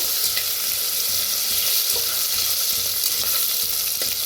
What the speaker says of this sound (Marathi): ह्याच्यात टाकूया अद्रक लसूण हिरवी मिरची चेतून घेतल्या छान असं भाजून घेऊया